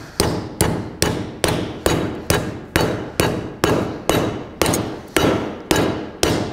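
Steady hammer blows on sheet metal being formed for custom car work, about two per second, each a sharp metallic clang that rings briefly before the next strike; close and loud, no talking.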